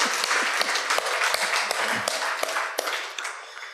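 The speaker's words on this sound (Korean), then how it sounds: "감사의 박수" A church congregation claps in thanks during a Wednesday praise and prayer service, a brief burst of dense, moderately loud applause with a few sharper taps that fades toward the end.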